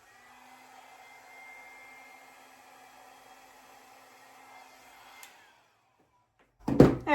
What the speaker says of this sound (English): I'm going to use the hairdryer.